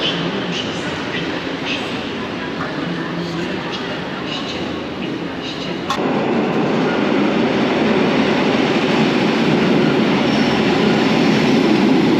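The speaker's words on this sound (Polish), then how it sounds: "A teraz pociąg do Skierniewic z Warszawy Centralnej." Steady rumble and rolling clatter of a passing train at a Polish station, growing a bit louder midway, with a muffled announcement-like voice underneath.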